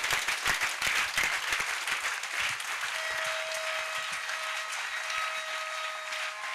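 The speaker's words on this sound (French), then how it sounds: "Acclame pour Jésus. Clap for Jesus." A congregation at an evening salvation and healing crusade in Bafoussam claps for Jesus, giving dense, close applause. It thins toward the end while a sustained tone lingers underneath.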